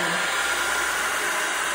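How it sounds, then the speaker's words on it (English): Blow dryer on its cool setting blowing across poured acrylic paint, a steady, loud, close hiss of rushing air that holds unchanged throughout with no talking. "All right, so we're going to take the blow dryer on cool."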